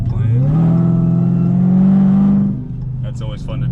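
A Dodge Challenger Hellcat fitted with Kooks headers revs hard, its deep engine note climbing and holding loud for a couple of seconds before dropping back toward idle.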